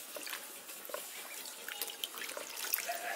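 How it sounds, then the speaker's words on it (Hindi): Tap water runs and splashes steadily while cucumbers are washed under it in a kitchen, a close continuous gush with small splatters and no talking. "और ये जो खीरा और ककड़ी जो गए हैं ना, इसको भी धो कर रख देते हैं।"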